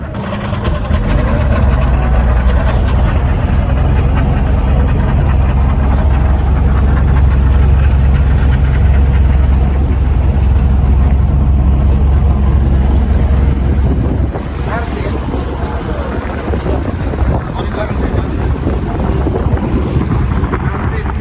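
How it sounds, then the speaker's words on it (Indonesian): A speedboat engine drones loud and steady on the water toward Agats in Papua, with wind and splashing hull noise over the continuous motor roar. "Kita berangkat menuju ke Agats pakai speedboat"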